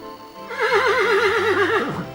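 A cartoon horse gives one loud, close, wavering whinny lasting under two seconds and dropping off at the end.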